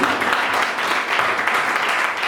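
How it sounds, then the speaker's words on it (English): A book launch audience claps together, a steady, dense patter of many hands at moderate distance, continuous for a couple of seconds. "I will force you to clap for him."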